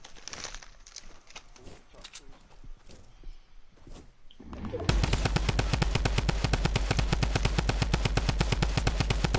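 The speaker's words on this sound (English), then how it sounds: "watch Dennis put one bullet into him." Rapid automatic gunfire in a Fortnite match bursts in loud and sustained halfway through, a dense stream of shots following quieter game sounds and footsteps.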